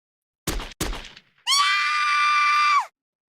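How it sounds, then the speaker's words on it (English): Two sharp thuds sound at the start, then a woman's high, sustained scream rings out alone for over a second in the Chaos;Head Noah video game. "I heard a dry explosion in the distance, followed by a lady screaming."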